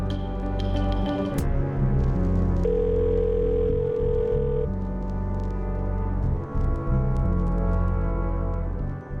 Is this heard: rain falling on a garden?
no